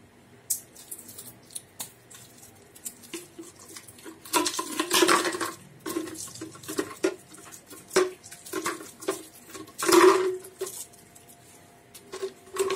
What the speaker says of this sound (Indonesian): pertama-tama dipecahkan terlebih dahulu es batunya. Nah, oke. Kemudian masukkan ke dalam blender.